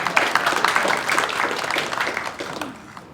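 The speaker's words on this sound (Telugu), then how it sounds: "మీరు చప్పట్లు కొట్టచ్చండి ధారాళంగా." Audience applause at a Women's Day celebration program, a steady wash of many hands clapping that fades out near the end, with no voices over it.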